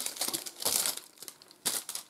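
Double-sided tape is peeled for gluing a Halloween card, giving close, soft crinkly tearing with a few sharper pulls spaced through the short stretch, quiet and without talk.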